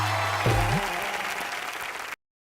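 Studio audience applause at a Hindi comedy entertainment show, a broad steady clapping wash lasting about two seconds with a brief tonal sound near the start, then cutting off abruptly.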